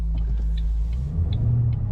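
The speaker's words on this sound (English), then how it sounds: "Today we're driving a 2007 Ford Mustang." A 2007 Ford Mustang Shelby GT500 with a 6-speed gearbox drives along, its engine giving a steady, close, low rumble that runs unbroken throughout with no talking.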